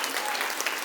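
Audience applause at a talk on financial freedom, a brief, dense burst of many hands clapping at steady strength.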